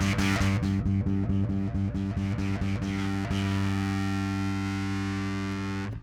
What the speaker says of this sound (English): And if you want even more distortion, just add more top end.